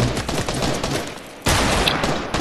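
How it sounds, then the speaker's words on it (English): Gunfire in the Fortnite video game: a dense burst of rapid shots fills the clip, dips briefly, then returns louder and sustained, close and harsh. "Oh, he has a gun. He's shooting."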